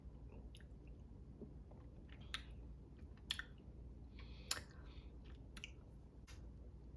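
Someone chews a chewy, rubbery 1990s candy up close, making faint soft squishing with scattered sharp clicks and small crunches over a quiet low hum.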